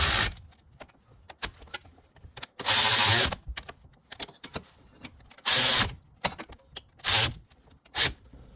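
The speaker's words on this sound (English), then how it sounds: "the way how I tighten it in a cross pattern, I went top right, bottom left, top left, and then bottom right" Wheel hub bolts on a 2010–2015 Toyota Prius are tightened in a cross pattern with a ratchet, heard as short clicking runs broken by several loud, drawn-out whirring bursts close by, with no talking.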